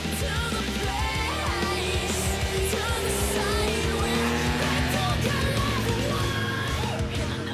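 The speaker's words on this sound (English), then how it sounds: "That was the stadium trucks." Stadium trucks racing on a wet, boggy rally stage at Heathcote Raceway, engines revving and droning steadily at close range with a continuous loud roar and some shouting in the background.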